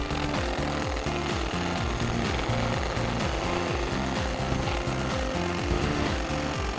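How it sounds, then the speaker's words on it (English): A handheld fiber laser engraving machine marks a logo onto a workpiece, giving off a loud, dense, steady buzzing hum with a rapid pulsing rhythm that runs without pause. "Place the marking head over the workpiece, then press the start button to begin marking."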